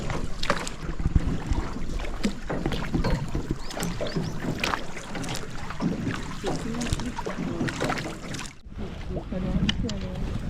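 Rowboat rowed along a river in Ninh Binh, with oars splashing and knocking in an uneven rhythm, water lapping and wind buffeting the microphone, and people talking nearby throughout.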